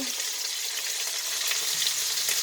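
Meatballs sear in a pan with a dense, continuous hiss of sizzling fat, close and steady throughout, no voices.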